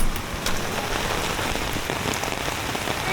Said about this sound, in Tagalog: At sobrang lakas ng ulan